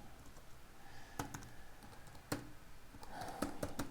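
Bursts of typing on a computer keyboard entering a custom network name into a MetaMask wallet, a few isolated clicks followed by a quicker cluster of close keystrokes.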